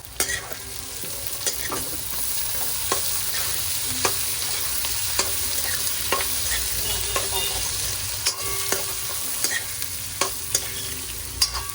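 Capsicum stir-fries in a pan with cut pieces of bottle gourd and spinach muthiya dhokla, a steady sizzle broken by regular clicks and scrapes of a spoon stirring, close and continuous with no voices.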